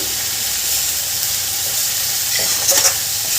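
Radish leaf bhaji being sautéed with onion and tomato, a bright, close sizzle with steady stirring and a few sharper scrapes toward the end.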